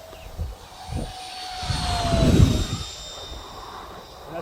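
A 3D printed Shark model jet with a 64mm electric ducted fan flies past at half throttle, its whine and rushing roar swelling to a peak as it passes and then fading. A voice is briefly heard.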